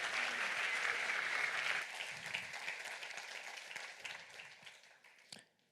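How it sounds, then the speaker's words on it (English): Conference audience applauding at an open source talk, a dense wash of many hands clapping loudly at first, then thinning and fading out over several seconds with a final scattered clap near the end. "Round of applause for Liran."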